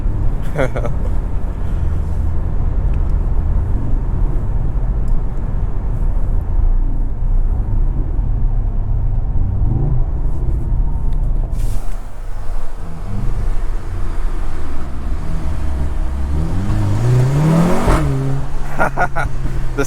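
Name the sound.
Mercedes C43 AMG engine sound reflecting off a wall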